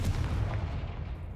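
A Confringo spell explodes in the Hogwarts Legacy video game, a single deep booming blast that rumbles and decays over about a second, with no talk.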